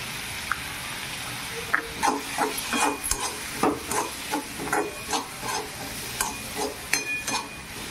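Onion and tomato frying in a pan for vermicelli upma, repeated close scraping strokes of a spatula in a steady rhythm over a light sizzle.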